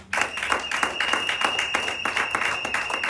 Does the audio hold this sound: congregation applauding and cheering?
yes